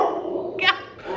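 A dog gives a quick, sharp bark near the middle, brief and fairly close, against indoor background noise.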